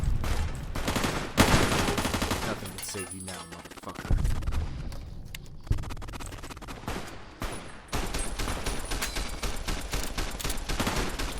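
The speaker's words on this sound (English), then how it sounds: "And there's gunfire already." Rapid gunfire bursts from a firefight in Fallout: New Vegas at Carruthers Canyon, dense and loud over game music, with a shouted line of dialogue partway through.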